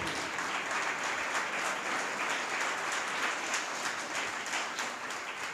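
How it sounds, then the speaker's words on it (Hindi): An audience at a prize distribution ceremony gives steady, sustained applause to welcome the author of the book "You Are the Hero", many hands clapping evenly throughout with no voices over it. "आपके सामने जोरदार तालियों के साथ स्वागत कीजिए author of the you are the hero book"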